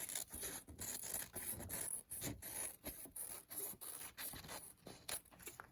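Scissors snip through fabric while cutting out a no-sew face mask, giving a run of short rasping cuts in an irregular rhythm, close and fairly quiet, with no talking.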